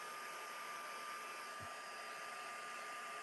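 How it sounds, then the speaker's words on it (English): Heat tool blowing steadily while drying paint on a mixed media painting, a constant loud whooshing hum with no break. "I don't like heating paint tubes up with my heat tool"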